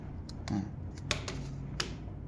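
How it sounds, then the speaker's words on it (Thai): Several sparse, separate keystrokes on a computer keyboard, clicking faintly over a low background hum while Lao keyboard input is being set up. "มาลองพิมพ์ข้อมูลเบิ่งเนาะ"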